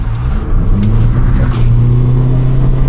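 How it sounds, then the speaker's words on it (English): A modern car spins its wheels under hard acceleration, the engine roaring loud and close with a steady rising drone that barely lets up, with no voices over it. "It wheel spins easily though."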